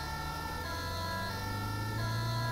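Ambulance air horn in GTA V roleplay, a loud steady tonal blare held without a break, close and alone with no talk over it.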